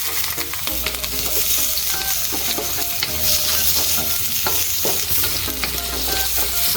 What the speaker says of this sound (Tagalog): Then, let's saute the veggies,